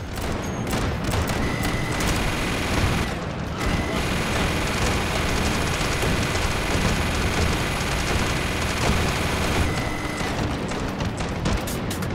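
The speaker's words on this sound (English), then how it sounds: "Whoa, whoa, all these explosions." Dense, continuous rumbling blasts and crackling gunfire roar without pause in the VR video game Hot Dogs, Horseshoes & Hand Grenades, loud and chaotic, like a heavy barrage of explosions.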